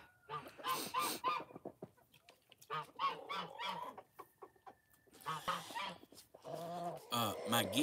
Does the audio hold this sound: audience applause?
no